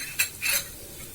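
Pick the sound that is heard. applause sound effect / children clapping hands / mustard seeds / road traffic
mustard seeds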